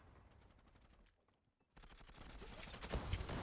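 Automatic gunfire in the online shooter Zula, rapid rattling shots that start after a brief lull and grow denser and louder toward the end.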